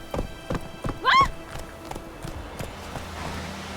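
Horse hooves clip-clop in a quick irregular rhythm in The Witcher 3, with a brief whinny in the middle and a short vocal sound, then a quieter trailing section.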